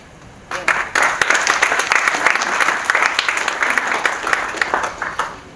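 A business event audience breaks into applause, swelling quickly into a dense, steady clapping that carries on for several seconds with some crowd noise mixed in.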